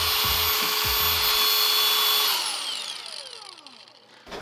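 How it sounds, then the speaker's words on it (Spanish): A cordless angle grinder (esmeril inalámbrico) is switched on, giving a loud, close, high-pitched whine that holds steady for about two seconds, then spins down with a falling pitch as the disc slows. "Vamos a enfocarnos tantito a las herramientas inalámbricas, en este caso el esmeril inalámbrico."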